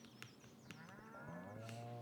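Cows in Stardew Valley give a long, low moo that swells and holds near the end, over soft clicking footsteps; faint and alone, with no talk.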